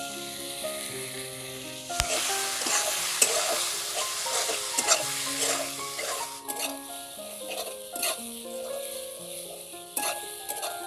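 Masala for chicken bhuna khichuri fries in a pan with a splash of water, sizzling continuously while a spoon scrapes and taps in frequent stirring strokes, over a faint tonal background.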